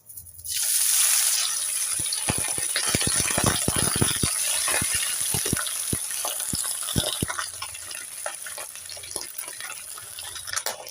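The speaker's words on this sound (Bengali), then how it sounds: "এবার আমি একে একে মাছগুলোকে ভেজে নেব" Fish fry in hot white oil in a kadai, a dense steady sizzle and crackle that starts abruptly, with rapid spitting pops and a few utensil rattles, loud and close.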